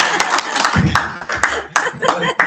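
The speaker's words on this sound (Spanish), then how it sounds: "Sí, está bien aplaudir." Attendees at a community meeting clap in short, close bursts, with chuckles and snickers mixed in and voices talking through the brief, uneven applause.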